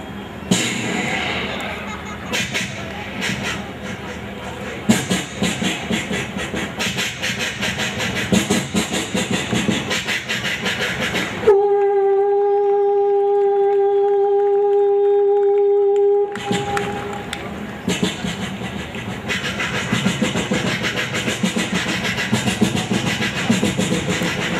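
A comedian on stage imitates a train starting up with his voice: rhythmic chugging and hissing bursts, then a sustained whistle-like tone, and chugging again.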